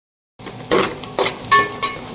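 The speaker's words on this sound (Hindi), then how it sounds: "ये हमारी सब्ज़ी फ्राई हो गई।" Vegetables frying in a pan are stirred with a utensil, giving a few clattering scrapes and clinks over a soft sizzle, close and fairly quiet.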